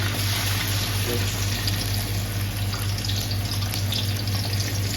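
Ginger and garlic sizzle in hot oil for chicken majboos, a steady close frying hiss with a low constant hum beneath, unbroken and moderately loud.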